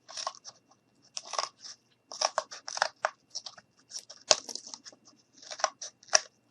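Scissors snip out a paper craft piece for a Santa boot ornament in a string of short, close, crisp cuts, irregularly spaced bursts of crunchy clipping with quiet gaps between, no talking.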